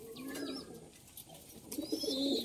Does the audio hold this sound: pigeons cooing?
yes